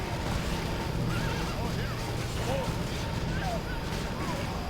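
A horse neighs in the Warcraft 3 video game, a couple of short whinnies rising out of busy in-game battle noise and background music.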